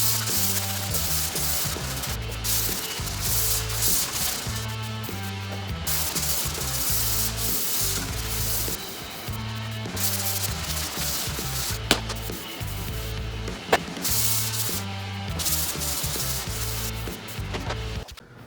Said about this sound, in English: I'm sanding my heart out, making a mess